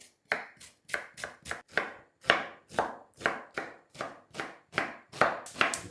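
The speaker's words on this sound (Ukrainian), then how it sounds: "Цибулю ми нарізаємо дрібним кубиком." A knife chops onion on a cutting board in quick, steady strokes, around a dozen sharp close taps in an even rhythm with no talking.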